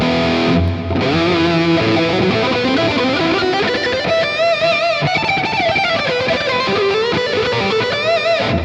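Distorted electric guitar through an Uberschall amp model in Tonocracy, with delay and reverb added, plays loud sustained bending metal lead lines over a dense saturated wash, continuous with no voices.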